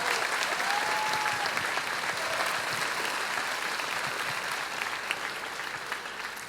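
Sustained audience applause fills the hall at a high school arts awards ceremony, a dense, even wash of clapping that stays loud before gradually thinning toward the end.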